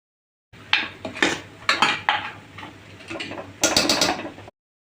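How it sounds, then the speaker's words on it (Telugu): A spoon scraping and clinking against a pan while spice masala with cumin powder fries, a run of sharp metallic strokes in an uneven rhythm, close and fairly loud. "పచ్చివాసన పోయే వరకు వేయించుకుందాం"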